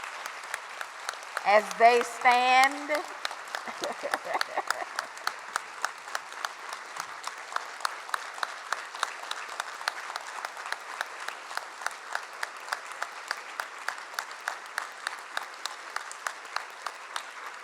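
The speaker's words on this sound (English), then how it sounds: "Let's give them both a round of applause as they stand." Sustained applause from a university convocation audience, starting with a brief announcer's voice and settling into a steady, even wash of many hands clapping that continues to the end.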